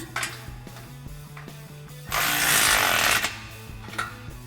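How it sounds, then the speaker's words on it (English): A ratchet turns a 17mm socket on exhaust bolts for a Roush single exhaust system on a 2021-2022 F-150, giving quick, close repeated clicking bursts with a brief louder rasping burst in the middle. "we can loosely tighten these bolts down with a 17mm socket"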